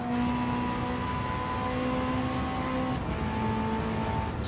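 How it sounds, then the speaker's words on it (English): A race car engine in Gran Turismo 7 drones at high, sustained revs, its whining tone shifting pitch as the car drives on, loud and continuous with no talk. "I mean, it is a race car."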